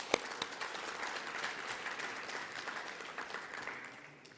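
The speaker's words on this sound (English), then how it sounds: "I would like you to give it a round of applause" Audience applause at a 2021 tourism and airlift routes launch in Nelson Mandela Bay; scattered, moderately faint clapping from a room of attendees, opening with one sharp clap and fading gradually over four seconds.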